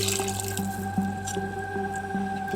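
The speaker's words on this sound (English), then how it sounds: "I'm going to add some water in" Water is poured into a pan of softened onions, giving a steady liquid splash and gurgle that runs through the short moment with small drips and squishes on top.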